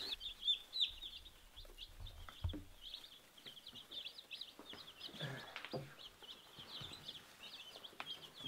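Young meat-bird chicks peep in a continuous chorus of high, thin chirps, fairly faint and steady, with a few soft knocks and rustles underneath.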